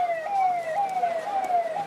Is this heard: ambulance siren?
yes